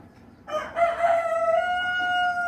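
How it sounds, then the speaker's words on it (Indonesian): A single rooster's cock-a-doodle-doo rings out close and clear in the morning, a rising then long held crow over a quiet rural background. "Suara-suara ayam bersautan seakan membangunkanku"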